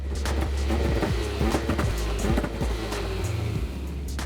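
A classic Nissan Skyline's engine runs close by with a steady humming drone, its pitch wavering and shifting a few times over several seconds.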